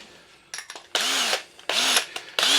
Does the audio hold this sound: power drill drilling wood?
yes